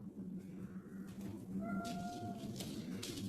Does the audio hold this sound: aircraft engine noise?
no